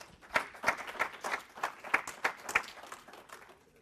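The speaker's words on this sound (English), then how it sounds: "give him a big round of applause." Sparse clapping from a small conference audience welcoming a speaker, with individual claps distinct and fairly quiet, thinning out over a few seconds.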